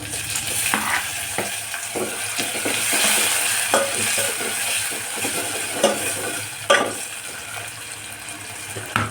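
Onion, garlic, ginger and tomato fry in a pan with a steady sizzle, punctuated by repeated scraping and clattering stirs of a utensil at close range, with no voices.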